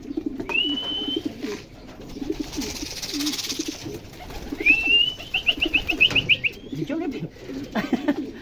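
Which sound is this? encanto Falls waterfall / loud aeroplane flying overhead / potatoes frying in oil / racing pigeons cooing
racing pigeons cooing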